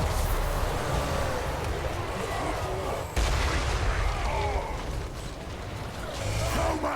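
Artillery fires in a Total War Warhammer III battle: a dense, continuous wall of booming shots and rumbling impacts with one sharp break partway, loud and close throughout.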